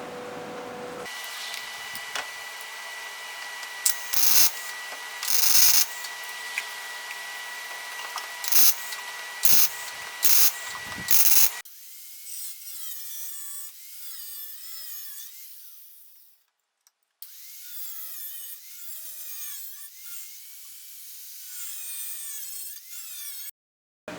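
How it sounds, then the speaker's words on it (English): Cutting wheel trimming excess metal off a Nissan 240SX fender for an overfender install, a harsh steady grinding whine in repeated cuts broken by short pauses, then a lighter, higher rasping stretch, close and loud without speech. "I'll go ahead with the cutting wheel and trim off the excess metal"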